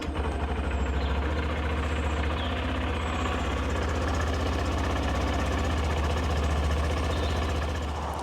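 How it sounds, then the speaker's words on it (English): A nearby Honda CB125F motorcycle engine, started from cold, runs at a steady, lumpy idle with a rhythmic low throb, continuous and unaccompanied by voices. "This is testing from cold, first thing in the morning, haven't started the engine yet."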